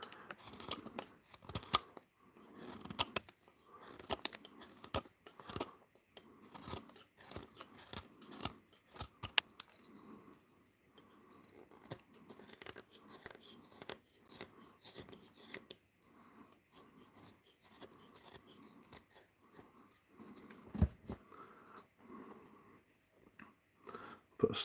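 A knife carves a wooden spoon, shaving off the heartwood in a run of short, close scraping and crunching strokes, some sharper and louder, with brief pauses between cuts.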